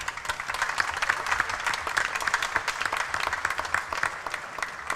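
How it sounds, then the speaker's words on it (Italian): Warm audience applause at an Italian event presenting a horse show held at a villa, dense and steady clapping from a seated crowd, moderately loud and continuous with no talking. "Allora, un bel applauso."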